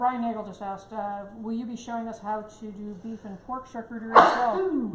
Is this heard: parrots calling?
no